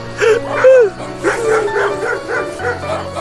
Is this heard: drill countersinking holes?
no